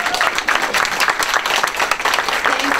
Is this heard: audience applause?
yes